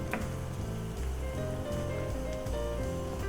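A steady, soft sizzling bubble of bulgogi tteokbokki sauce simmering in a pan, continuous crackle with low hum underneath, no voices.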